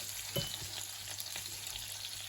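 Ham fries in a pan with a close, even sizzle and faint spits and crackles throughout, alone without any voices.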